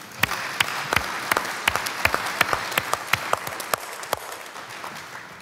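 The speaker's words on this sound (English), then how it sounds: "I think we need to give a round of applause to Brian for getting through all those names" A small conference audience gives a round of applause, with distinct, sparse individual claps spaced irregularly over a few seconds, fairly quiet and thinning out toward the end.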